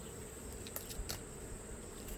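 Italian honey bees in an open Langstroth hive on a hot August day make a faint, continuous buzzing hum with a few brief closer passes, no voices.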